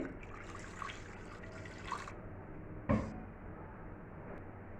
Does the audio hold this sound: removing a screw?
no